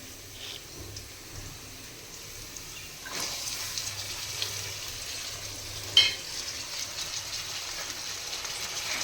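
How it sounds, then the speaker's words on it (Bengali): Mixed winter vegetables fry in a pan for a vegetable dal, a soft steady sizzle that grows louder partway through as peas and chillies are added, with a brief clatter near the end. "সবজিগুলো মোটামুটি ভাজা হয়ে যাওয়ার পর এর মধ্যে দিয়ে দেব মটরশুঁটি আর পাকা লঙ্কা।"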